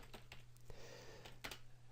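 Someone types on a computer keyboard in a short run of irregular key clicks, quiet and close, over a low steady hum with no talk.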